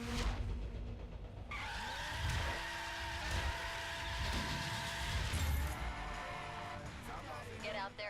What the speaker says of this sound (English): You heard the little engine.